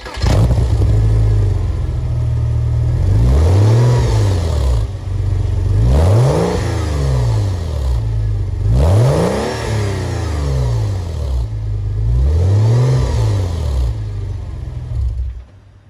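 A Porsche Boxster 986 with a 2.5-litre engine and an aftermarket stainless steel exhaust is revved about five times in a row, each blip rising and falling over a deep, loud, continuous idle rumble close by.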